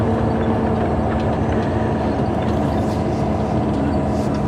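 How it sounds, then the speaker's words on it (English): A Powder River Basin freight train rumbles past close by near North Platte's Bailey Yard, a heavy, continuous clatter and roar that holds steady without a break for several seconds. "Well, that's that train there."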